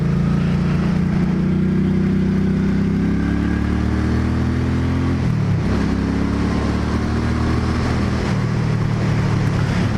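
A Suzuki M50 cruiser motorcycle with an 805cc engine runs close by in a loud, steady low rumble, its pitch shifting down and back up as the throttle changes while riding.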